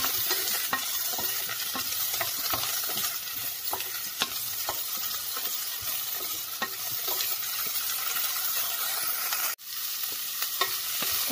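Cauliflower sautés in a pan for soup, with a steady loud sizzle and regular scraping strokes as it is stirred, and a brief drop in the sizzle near the end.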